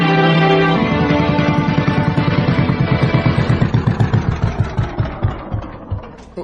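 A pumpboat engine runs loud and close, then falls into a rough sputtering putter with slowing, uneven beats as it weakens toward stalling.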